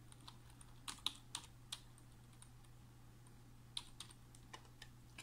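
Typing a username on a computer keyboard: soft, sparse key clicks at an irregular pace, close and quiet over a steady low electrical hum.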